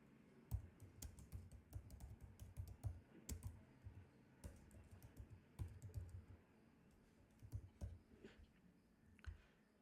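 Quiet, irregular bursts of key clicks from a computer keyboard as a title is typed while designing a Swiss-style book cover in Photoshop, with short pauses between runs of keystrokes and no one speaking.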